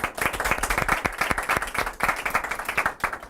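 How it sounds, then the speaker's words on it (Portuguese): A studio audience applauds at a Brazilian TV programme, with many close, sharp individual claps forming a lively, fairly rhythmic patter that holds steady throughout. "Palmas para ele, por favor."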